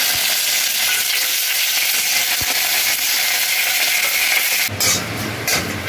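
Curry leaves and dried chillies sizzling and crackling in hot mustard oil in a pan, a steady loud fry throughout with a sharper burst of spitting near the end.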